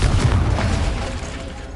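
Confringo explosive spell going off in Hogwarts Legacy, a loud booming blast with a sharp onset and a dense rumbling tail, close and dominant.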